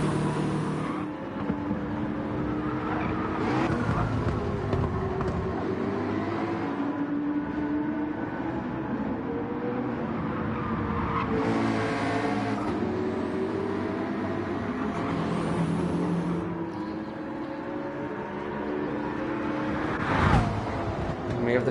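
Panther and McLaren GT race cars head out at Spa, their engines giving a continuous droning roar with some rises in pitch as they pass, and commentary runs over the top.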